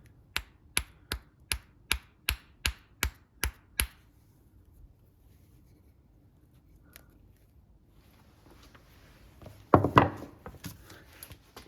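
A hammer taps a Porsche 911 (996) fuel injector, covered in tape, into place: eight light, evenly spaced metallic knocks close up, then quiet with a faint bump and a brief rustle near the end.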